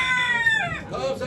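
Chickens at a poultry auction in Ankara, with a short, close burst of clucking and a crow-like call under nearby voices and background talk.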